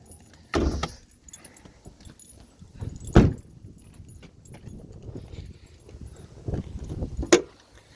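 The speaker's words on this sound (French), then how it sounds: "donc je vais ouvrir le capot." The hood of a RAM 1500 pickup is opened: a few separate sharp metallic clunks and latch clicks, close by, with quiet gaps between them and no speech.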